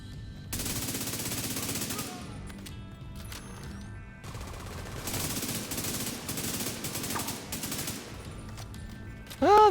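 Burst-fire weapon shooting in a video game invasion match, with loud repeated bursts of gunfire filling most of the stretch, separated by a short pause and ending in a sharp metallic impact.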